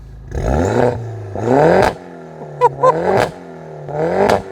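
Mini Cooper GP2 engine revved hard several times, close and loud, with rising pitch on each blip and sharp exhaust pops and bangs crackling as the revs drop.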